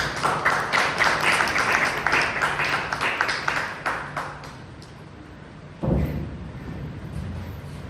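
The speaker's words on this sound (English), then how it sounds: "with a huge round of applause" A Toastmasters club audience claps to welcome the first speaker onto the stage, a burst of clapping that tapers off over several seconds before a brief louder noise.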